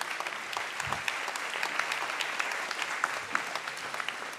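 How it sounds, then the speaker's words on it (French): An audience applauds steadily, a dense patter of clapping hands at moderate volume with no voices. "Voilà, merci, vous pouvez l'applaudir, oui."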